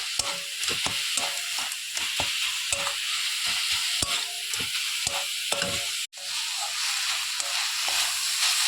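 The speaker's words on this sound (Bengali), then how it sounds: "আর একটু নারকেলগুলো আর দুধের সরটা ভালোভাবে ভেজে নেব।" Grated coconut and milk cream fry in a pan with a steady close sizzle, punctuated by repeated scraping stirs of a spatula.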